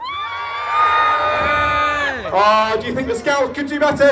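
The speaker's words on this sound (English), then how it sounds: "A cheer from the parents." Parents in a crowd at a St George's Day scouts parade in the UK, cheering and whooping loudly in a broad swell that follows an announcer's amplified voice.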